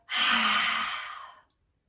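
One long, forceful breath pushed out through the mouth in a breathing exercise imitating a dragon breathing fire, a close, breathy rush lasting about a second and a half before stopping abruptly into silence.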